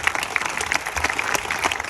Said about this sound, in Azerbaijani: Bir alqışlayaq senaristlərimizi